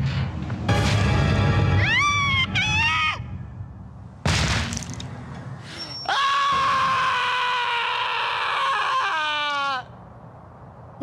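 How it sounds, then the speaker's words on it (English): A character in Michigan: Report From Hell lets out a delayed, strained scream that rises and wavers twice, then after a sharp crack a longer, louder wailing scream follows, close and alone. "If there's one moment you've likely seen of Michigan Report, it's this one with his delayed reaction scream"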